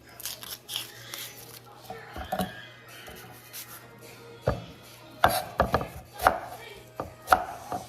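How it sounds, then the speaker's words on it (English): A butcher knife chops through an onion on a cutting board in a home kitchen, with uneven bursts of sharp, crisp cuts and short pauses between strokes. "Look at me cutting the onion with this butcher knife"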